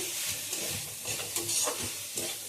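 Chicken with green chilies and tomato stirred in a pan, cooked without oil: repeated scraping strokes of a spoon against the pan over a soft steady sizzle, close and moderately loud, with no talking.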